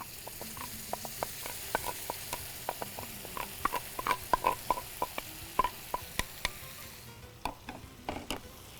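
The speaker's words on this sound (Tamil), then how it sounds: "இப்போ நல்லா வதக்குங்க." Ingredients are sautéed in a pan for a Tamil cooking dish with soaked samai (little millet) rice, mustard seeds, cumin, pepper and lentils: soft sizzling under a run of irregular spatula clicks and scrapes, close up with no talk.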